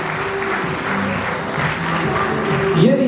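Audience applause at a concert, a dense steady wash of clapping from a crowd lasting the whole stretch, fairly loud, with a voice speaking over it.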